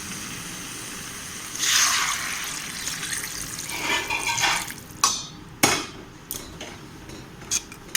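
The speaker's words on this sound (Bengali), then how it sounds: "চলো জল দিয়ে দিই।" Water is poured into a pan of crab curry with potatoes, a rushing gush of liquid up close, followed by a few sharp clinks of utensils against the pan.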